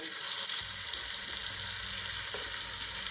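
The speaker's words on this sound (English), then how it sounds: "We're going to move the steaks to the griddle." Grass-fed ribeye steaks sear on a hot griddle with a loud, steady hiss that holds without a break, close up, with a low rumble joining soon after the start and no voices.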